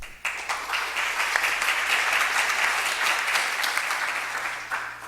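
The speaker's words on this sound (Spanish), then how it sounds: "Recibámoslos con un fuerte aplauso." Sustained applause from an audience at an international arbitration congress at a law faculty, a steady dense wash of many hands clapping that holds for the whole span and tapers slightly at the end.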